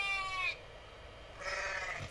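Cartoon sheep bleating on a farm in a children's counting game, two short wavering bleats separated by a pause, clear and close over light background music.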